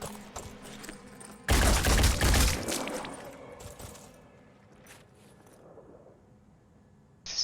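Gunfire from the Phoenix Point strategy video game, a single loud burst of shots lasting about a second, followed by quieter game ambience and a brief sharp sound at the end.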